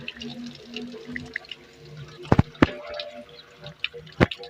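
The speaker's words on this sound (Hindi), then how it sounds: "अब हम पानी डालेंगे, इसको भरेंगे," Water poured from buckets into a farm tubewell pump to prime it, giving uneven splashing and dripping with a few sharper sloshes, fairly close, with faint voices in the background.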